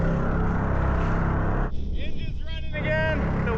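A jet-powered kayak's engine runs on rough Alaskan water, a dense, steady motor roar that dips briefly before resuming with a rising whine on top.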